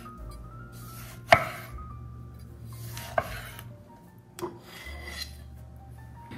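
A knife slices thinly through a ripe summer tomato on a board, with a few sharp separate chops and soft cutting sounds heard close and without talk.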